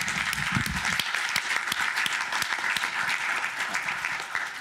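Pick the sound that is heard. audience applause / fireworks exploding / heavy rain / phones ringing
audience applause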